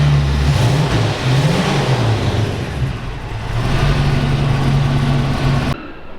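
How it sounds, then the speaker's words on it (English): A 1940 Ford Deluxe Coupe with a 350 Ram-Jet engine revs loudly up close, its throttle rising and easing in repeated swells before cutting off abruptly near the end, with no talking. "Get him to rev it up here."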